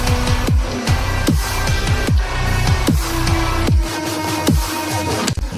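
Full electronic song chorus, with bright, catchy synth patterns over punchy drums; repeated kick hits with pitched, descending tails mark a steady beat under dense, loud layered synths throughout.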